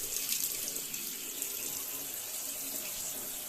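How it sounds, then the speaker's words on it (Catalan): Hot water runs from a bathroom tap into a sink before shaving, a steady hissing splash that holds constant throughout, close by with no voices. "hem posat l'aixeta"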